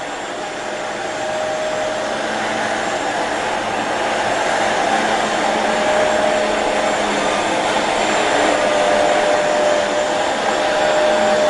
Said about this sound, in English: This Bissell's doing a really good job in cleaning this rug.